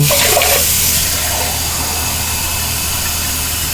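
Tap water pours into a jar for cooking lentils and rice, a steady, loud, broadband rush that swells briefly at the start and then runs on evenly.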